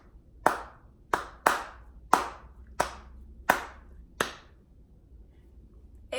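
Seven sharp hand claps in an uneven, syncopated rhythm, crisp and close, with brief quiet gaps between them.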